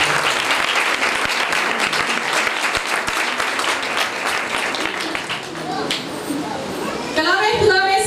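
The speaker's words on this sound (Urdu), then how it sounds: "خدا کی خاتمہ کے لیے ہم زوردار تالیاں بجاتے ہیں." A church congregation breaks into loud, sustained applause that fills the room for several seconds, with voices rising through the clapping.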